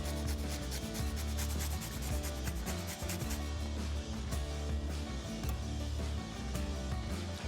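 Fresh lemon is zested over hummus, a close, steady rasping rub of peel against a fine grater, repeated continuously with brief scraping strokes and no talking.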